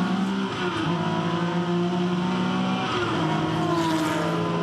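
A touring race car at Hidden Valley Raceway accelerates at full throttle, its engine note a loud, sustained, rising roar close to the microphone with no speech over it.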